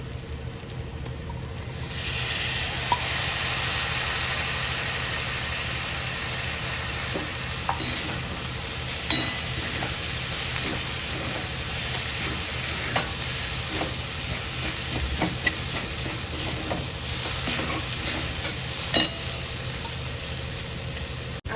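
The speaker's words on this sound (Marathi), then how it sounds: "आता आपण डाळ घालायची त्याच्यामध्ये मुगाची डाळ ही भिजवलेली" Soaked moong dal hits a hot pan and breaks into a steady, loud sizzle, with occasional stirring scrapes and clicks of a spoon continuing close up for the rest of the stretch.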